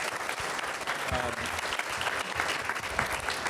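An audience at an evening urban planning panel on New York City zoning applauds the panelists, with steady, dense clapping filling the room at moderate loudness and faint crowd murmur underneath.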